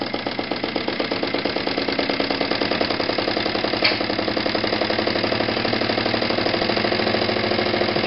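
A small engine running steadily at higher RPM, a fast even mechanical drone with a dense rhythmic firing pulse, loud and close throughout, with no talking.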